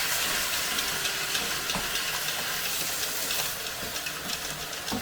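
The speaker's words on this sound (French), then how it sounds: "On met une petite tasse de vin blanc histoire de déglacer un petit peu tout ça." White wine hissing and sizzling as it hits a hot pan of langoustines and squid, a steady, bright steamy sizzle with faint scraping and stirring clicks, no voices.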